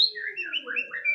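A white-rumped shama sings at a songbird competition, a rapid, bright stream of clear whistled phrases and trills, close and loud, with no talking.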